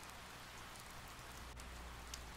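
Soft, steady rainfall in the video game Persona 4 Golden, a faint even patter with no talk over it.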